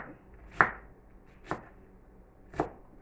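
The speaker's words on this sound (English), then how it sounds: "this is how I cut my onion" Three separate knife strokes chop through an onion on a cutting board, each a crisp, close thunk spaced about a second apart over quiet background.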